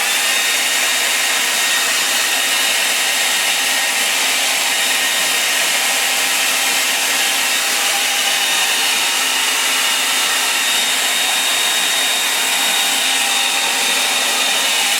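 A hair dryer blows continuously at close range, a loud, steady airy whir, drying the edges of an acrylic painting with no talking over it.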